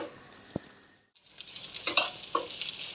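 Chicken, potatoes and chickpeas sizzling in a pot, a brief clunk and short pause giving way to steady frying hiss with crackles and stirring scrapes, close and moderately loud.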